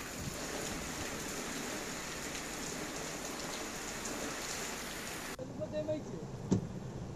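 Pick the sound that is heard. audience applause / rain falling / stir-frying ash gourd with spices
rain falling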